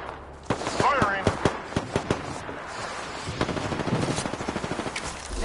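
Rapid bursts of gunfire from the video game Destiny 2, sharp repeated shots in quick clusters with a steadier rattling volley near the end, loud and close over game background noise.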